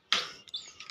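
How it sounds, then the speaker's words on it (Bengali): Pigeons perched on a rooftop at morning give a sharp, bright chirping burst followed by a few fainter, shorter calls, close by and with no talking. "এই যে আমাদের পায়রা চুচুগুলো বসে আছে"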